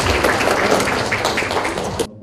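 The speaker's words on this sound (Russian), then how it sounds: "участника специальной военной операции Константина аплодисментами встречают в актовом зале 132-й школы" Applause from a crowd in a school assembly hall, welcoming a soldier: dense, steady clapping that carries on for about two seconds and then cuts off abruptly.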